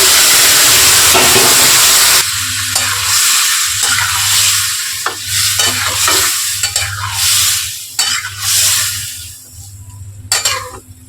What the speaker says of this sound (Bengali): পেঁয়াজটা আমার এখন ভাজা হয়ে গেছে, তাই আমি তুলে রাখা সবজিটা দিয়ে দিচ্ছি।